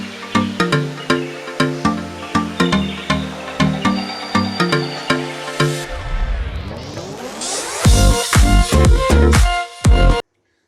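A kitchen blender purées cooked chicken and lentils for shami kabab, starting with short repeated pulses, then a loud continuous whirr with the motor winding up, ending abruptly.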